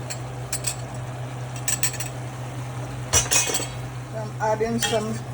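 Tomato sauce stirred into chicken stew in a pot for a Caribbean stew chicken, with scattered clinks and scrapes of a utensil against the pot over a steady background hum and brief indistinct voice.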